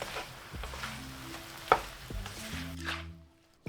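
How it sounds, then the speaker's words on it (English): Tom yum seafood stir-fry with shrimp being stirred in a pan after Thai basil goes in, a soft sizzle with scraping stirs and one sharp clack of the utensil against the pan, fading quickly. "Finally, add the Thai basil. Stir briefly."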